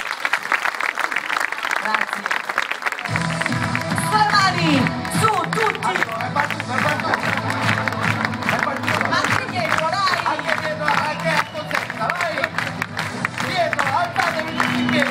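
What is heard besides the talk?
audience applause at a concert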